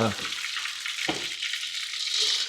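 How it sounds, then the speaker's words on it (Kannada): Mustard seeds spluttering in hot oil, a dense crackling sizzle with a couple of sharper pops, close and continuous, without voices. "ಸಾಸಿವೆ ಚಟಪಟ ಅಂತ ಇದೆ."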